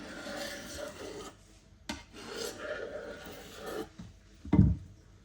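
Knife scraping and rasping through rolled honey cake dough around a plate laid on top, with steady rubbing strokes and a sharper knock near the end, with no talk.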